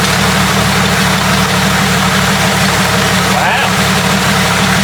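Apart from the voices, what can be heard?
Ford 4.0 engine idling, running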